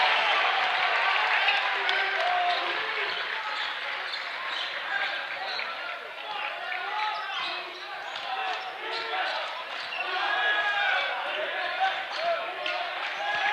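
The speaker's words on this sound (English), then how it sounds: "with the crowd so loud, how can they possibly hear Coach there?" A loud, roaring crowd at a high school basketball playoff game cheers continuously, with sneakers squeaking and a ball bouncing beneath the din, and voices calling out throughout.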